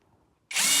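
A drill bit bores bolt holes in a flywheel from a K9K engine, the power drill bursting on abruptly after near silence and whirring loudly and steadily.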